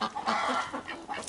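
Hens clucking in a backyard chicken coop, a short burst of close, moderately loud clucks and murmurs with no talking.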